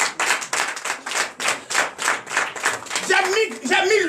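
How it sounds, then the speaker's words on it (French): A church congregation at a Sunday service in Comè, Benin, claps in a steady, rhythmic beat, loud and close, with voices rising over the clapping near the end. "Donnez l'acclamation à Jésus."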